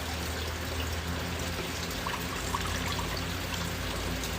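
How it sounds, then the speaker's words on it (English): Rainwater poured steadily into a vase holding orchid roots, a continuous close splashing trickle with no talk over it. "I'm going to add some rain water to it"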